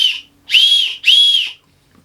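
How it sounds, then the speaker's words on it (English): An emergency whistle built into a Crivit head torch from Lidl gives one short blast, then two longer shrill blasts, loud and close, with brief silences between. "blow the whistle"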